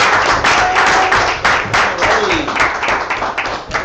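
Loud, sustained applause and clapping from an audience at a team meeting greets a guest speaker, many hands close by, with some voices mixed in under the clapping.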